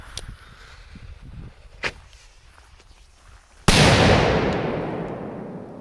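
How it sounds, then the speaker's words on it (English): A warning shot salute firework shell launches from its tube outdoors and explodes in one loud, sharp boom with a long decaying rumble, after a stretch of quiet ambient sound with a few faint crackles and footsteps. "here goes the warning shot salute shell"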